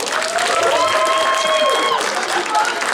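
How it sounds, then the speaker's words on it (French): Crowd applause for cosplayers at a cosplay contest during the Ludinam game festival, a steady wash of many hands clapping with overlapping voices and some tonal sound above. "On les applaudit"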